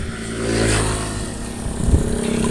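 A Honda GL Pro motorcycle engine with compression leaking past the valves runs at a steady idle, a close mid-pitched putter that swells briefly and has a few rougher pulses near the end, with no speech over it.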